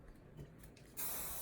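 After a near-silent moment, a single close aerosol spray hisses out in one steady burst, loud and bright.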